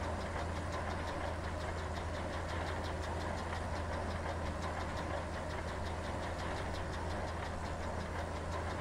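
A farm vehicle engine in Landwirtschafts-Simulator 15 drones steadily at full throttle, a continuous, even mechanical rumble with a fast knocking pulse running through it, held at constant level throughout with no voices.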